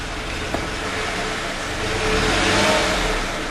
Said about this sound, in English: If you give it gas just lightly, it'll accelerate, but then bog back down